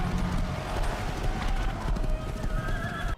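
Horse hooves clip-clop steadily and loudly over a dense, busy background in a Mafia: The Old Country game trailer, with a faint tonal whine running throughout before cutting off abruptly at the end.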